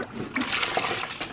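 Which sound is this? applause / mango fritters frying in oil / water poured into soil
water poured into soil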